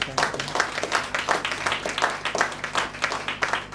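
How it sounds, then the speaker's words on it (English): Steady, fairly close applause fills the room at an installation ceremony as the crowd gives a round of clapping for a program, with no talking over it. "I want us to give a round of applause for that program."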